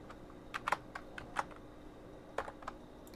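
Password typed on a computer keyboard while joining a Windows PC to a Samba domain: a short burst of soft, quick key clicks in uneven rhythm, close and quiet, with no voices.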